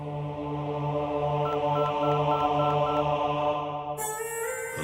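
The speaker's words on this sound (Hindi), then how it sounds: "उस मास्टर जी ने फोन करके तुम्हारे पिता को सारी बातें बता दी।" A telephone number is dialed, a regular run of DTMF tone beeps pulsing over a steady line tone, followed by a sudden shift to a different electronic signal near the end, with no voices.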